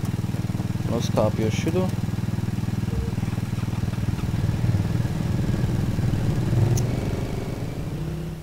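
Vehicle engines in ArmA 3 hum in a steady, continuous drone throughout, with someone speaking briefly over them.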